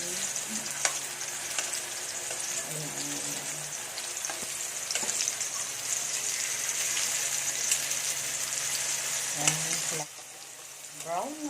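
Tofu frying in hot oil until browned and crispy for adobong sitaw, giving a steady close sizzle with occasional stirring scrapes and a brief drop in intensity near the end.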